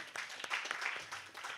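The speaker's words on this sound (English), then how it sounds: "can we give a big round of applause for Bev and Mark" Applause from a live audience at an outdoor pre-launch gathering, a steady wash of clapping for about a second and a half at moderate, slightly distant level, with faint voices mixed in.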